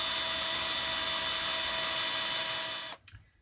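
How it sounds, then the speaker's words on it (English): Power drill boring pilot holes into a shiplap wall, a steady high whine held for about three seconds before cutting off abruptly, close and alone. "Now that I have my pilot holes drilled,"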